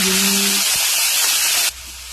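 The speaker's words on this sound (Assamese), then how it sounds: "ফুলকবিখিনি ফ্ৰাই হৈ গ'ল, এতিয়া আমি দিম গাজৰখিনি ধুনীয়াকৈ ফ্ৰাই কৰি ল'ব লাগিব।" Carrots and cauliflower frying in a pan with a loud, steady sizzle and hiss that runs continuously, then drops off abruptly to a quieter background near the end.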